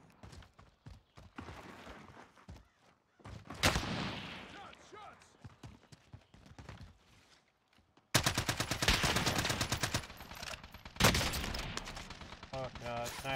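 Sniper rifle gunfire in the Warzone video game: sharp shots and bursts, some faint and some loud, cutting through excited player chatter.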